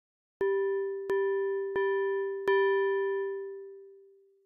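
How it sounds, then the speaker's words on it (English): A Tracktion F.'em FM synthesizer bell played softly, four gentle muted strikes at an even pace, each ringing nearly pure and sine-like, the last tone sustaining and slowly fading alone. "When we now play very softly, you can hear that the bell sounds very muted, almost down to a pure sine wave"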